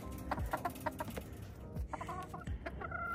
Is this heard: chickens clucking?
yes